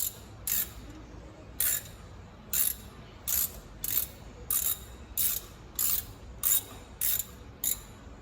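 A ratchet clicks in about a dozen short, crisp bursts at an irregular but steady pace while old bolts are worked loose on a 1989 MCI 102C3 bus, close and distinct over quiet background.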